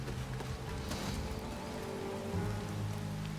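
Heavy downpour in Ghost of Yotei, rain pattering steadily on muddy ground and running off a roof, a dense unbroken hiss at even loudness with no voices.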